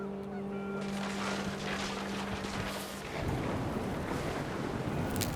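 Geese honk a few times against a rushing wind in the video game What Remains of Edith Finch, with a steady low drone early on before the gusts take over.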